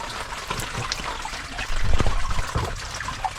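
Water trickles steadily from a spring where soil has fallen in, a soft continuous dribble with a brief, slightly fuller gush partway through, close by and alone.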